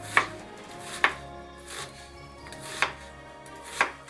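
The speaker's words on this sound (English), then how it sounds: "You just cut the onion in half after you've peeled it and do this." A knife chopping a peeled, halved onion on a cutting board, four sharp distinct thuds spaced roughly a second apart, close and clear with quiet pauses between.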